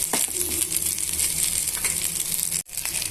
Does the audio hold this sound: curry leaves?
yes